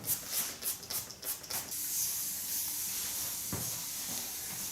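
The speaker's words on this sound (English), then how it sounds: "I use a conditioner spray." Short bursts of conditioner spray mist wet hair in a salon, several quick hissing puffs in a row, then a quieter steady hiss.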